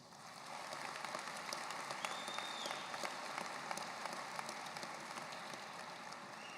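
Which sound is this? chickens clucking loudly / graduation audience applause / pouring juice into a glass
graduation audience applause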